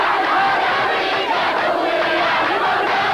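A dense crowd of protesters during Desert Shield in 1991, their voices merged into a steady, loud roar of chanting and shouting with no pauses.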